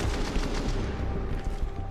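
Dense, continuous gunfire in a Counter-Strike: Global Offensive match, a loud, busy clatter of overlapping shots that carries on without a break.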